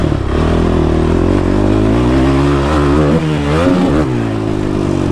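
A motorcycle engine revs hard in first gear, loud and close, with its pitch wavering and dipping as it stutters and cuts out, then picks back up. The sound is a continuous mechanical roar with no talking.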